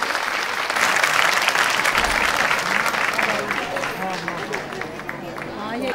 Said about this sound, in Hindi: आपसे चाहूंगी उनका जोरदार स्वागत करें तालियों के साथ